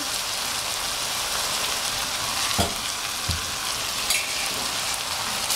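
Shrimp gumbo ingredients with black pepper and fresh shredded garlic are mixed in a frying pan. A dense, steady sizzle continues throughout, with a couple of soft scraping knocks from the stirring.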